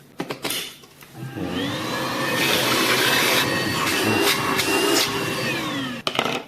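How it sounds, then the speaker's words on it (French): A Kärcher VC 4 cordless MyHome stick vacuum cleaner runs with a steady high whine and airy roar, rising in pitch as it spins up, with some clicks and handling knocks at the start and end. "tu peux t'en servir en mode petit aspirateur, enfin on va dire presque aspirateur à main"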